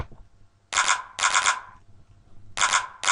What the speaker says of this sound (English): Right, the clap.